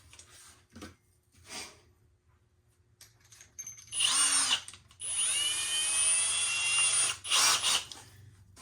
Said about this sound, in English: so I can drill a little bit smaller hole